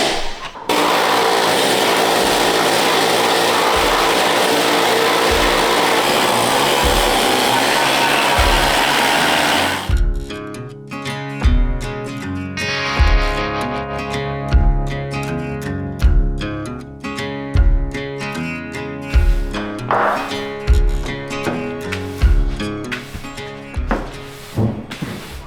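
A compressor-powered air tool tears through material on a Datsun 280Z, first as a loud continuous hiss-buzz for about ten seconds, then as a series of sharp, irregular bursts and knocks close by.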